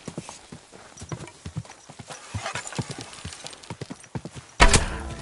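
Horse hooves clip-clop in an uneven, close rhythm across several seconds, ending with a sudden louder burst of noise.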